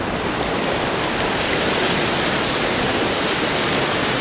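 The San Lorenzo stream, swollen with storm water, rushes under a road bridge with a dense, steady roar of churning water, loud and continuous with no voices.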